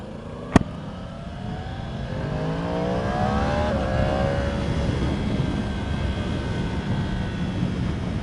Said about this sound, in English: The bike definitely accelerates well.